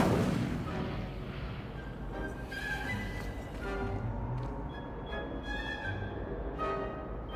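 In the Hogwarts Legacy video game, an Incendio fire spell roars as a dense, rumbling blast of flame. It stays loud and continuous throughout, with crackling bursts over the top.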